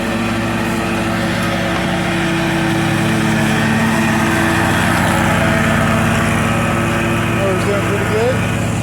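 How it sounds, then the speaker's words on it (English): An Exmark Radius lawn mower runs steadily with a constant engine drone throughout, mowing a large property, near and loud with no pauses. "Mower's doing pretty good."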